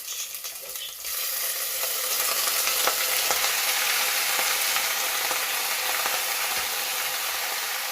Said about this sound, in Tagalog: And then time for me to add the chicken.